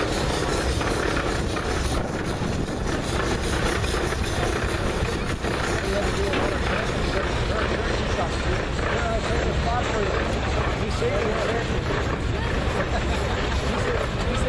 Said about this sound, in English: This tractor is a 1909 model, 30 horsepower.